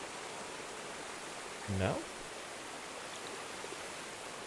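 Steady broadband rush of a waterfall in the video game Fe, seen from its base, continuous and moderately loud throughout, with a brief spoken word breaking over it midway.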